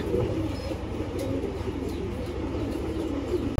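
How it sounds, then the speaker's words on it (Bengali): Pet pigeons, a red and a silver pair among them, coo continuously in low rolling murmurs close by, steady throughout with no talking. "তো এই হলো নর কবুতরটা"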